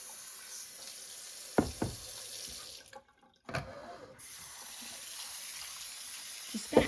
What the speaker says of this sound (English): Just going to add some water.